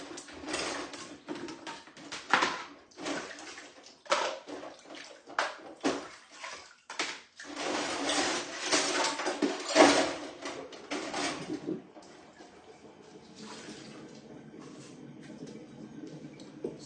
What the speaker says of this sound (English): So I'm just washing my pot